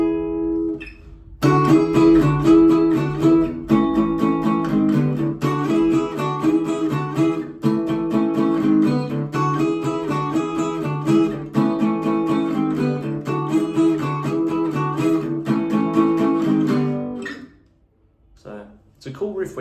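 Electric guitar playing a riff, a chord with the third added on top and the fifth dropped, repeated in a loud, steady, driving rhythm for about sixteen seconds before ringing out, with no talking.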